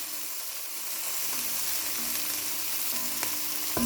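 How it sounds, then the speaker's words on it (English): Meatballs browning in a pan, a loud continuous sizzle and spatter throughout with a few faint clicks of movement in the pan, no voices. "Once the meatballs are browned on all sides,"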